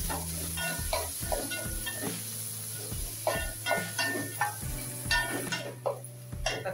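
Onions and tomatoes sauté in a pan, a soft frying hiss broken by repeated scraping and clinks of a spoon stirring against the pan, up close with no talking.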